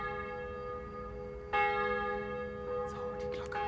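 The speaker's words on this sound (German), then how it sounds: "Die Glocke bimmelt über dem Friedhof von Schäßburg hier." A church bell rings out over the cemetery in Sighișoara, Transylvania, with a sustained tone and a fresh, louder strike partway through, then a steady ring with faint background noise.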